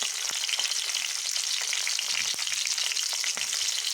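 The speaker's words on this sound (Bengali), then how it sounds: "তেল গরম হয়ে গেছে, এবার আমি ফোড়ন দিয়ে দেব। একটা কাঁচা লঙ্কা, একটু পাঁচফোড়ন" A green chili and panch phoron are tempered in hot oil for a Bengali greens dish, making a dense, even, loud crackling sizzle with scattered small pops, close and unbroken, with no voices.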